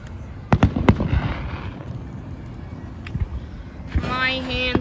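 Fireworks explode outdoors on the Fifth of July, giving several sharp bangs and crackles at varying distance, with people talking in between.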